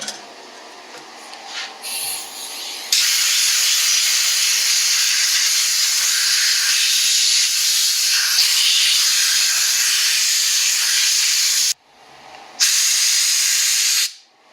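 A strong, steady blast of compressed air rushes out through a fuel passage on a Pietenpol aircraft's fuel system. The loud hiss holds for about nine seconds, stops briefly, then comes back in a shorter burst.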